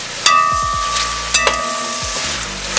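Onion sizzles in hot oil in a pot for Samarkand plov, the steady frying hiss broken by several sharp scrapes and knocks of a utensil stirring, close and loud with no talking.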